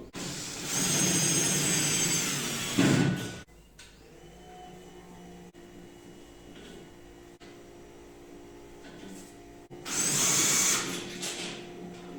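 A power drill bores into a ceiling for a molly anchor in a drywall lining job. Two loud grinding bursts of a few seconds each are separated by quieter clicks and rustling.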